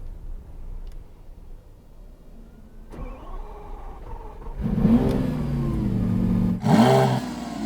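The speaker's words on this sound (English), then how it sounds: "Here's the cold start on the SVJ." Cold start of a Lamborghini Aventador SVJ: a quiet whir and starter crank, then the engine catches with a loud bark, settles into a rough idle and blips once more near the end, heard up close.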